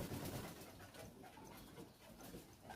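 High-mutation section sheel pigeons, around three and a half months old, coo softly and faintly in a few low, murmuring phrases against quiet background hiss.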